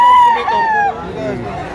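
A rooster crows once, loud and close, at a busy poultry market, its strained call rising and then trailing off.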